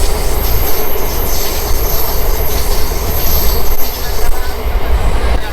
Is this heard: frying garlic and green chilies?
no